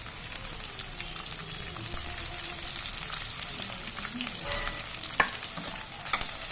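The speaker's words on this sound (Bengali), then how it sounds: "একটু ভাজা ভাজার মতো হয়ে যাক" Chopped onion and capsicum fry in a pan for a mushroom curry, giving a steady close sizzle with occasional sharp clicks and scrapes of stirring.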